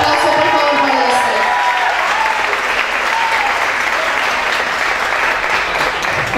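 Loud, dense applause from a large crowd at an album launch concert, steady and continuous, with some cheering mixed into the clapping.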